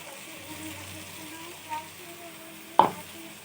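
Tomato and onion paste fries in a pan with a soft, continuous sizzle, broken near the end by one sharp clink of a utensil against the pan.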